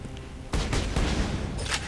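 Assault rifle gunfire in the Borderlands 2 video game, a dense sustained burst of rapid shots that starts abruptly after a brief quiet moment and rolls on loudly to the end, with no talking.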